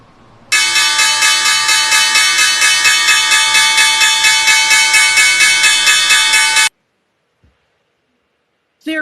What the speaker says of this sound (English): Let's pause now for a look at the opening bell